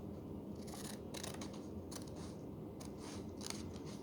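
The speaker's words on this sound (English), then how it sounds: "now we can cut and get the tangram pieces" Scissors snipping through paper to cut out tangram pieces, a quick series of short crisp cuts in small bursts, close and faint over a quiet background.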